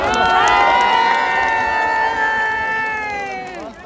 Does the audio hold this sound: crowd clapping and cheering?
yes